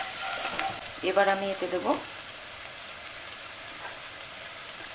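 Onion fries in a pan for chicken polao, giving a soft, steady sizzle throughout, while someone speaks briefly over it in the first couple of seconds.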